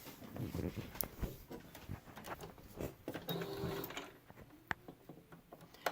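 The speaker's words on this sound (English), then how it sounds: "you're going to sew from here all the way to the pin and then back stitch it" A sewing machine stitches and back stitches a fabric mask. Its quiet mechanical whirring and clicking come in short runs with small pauses.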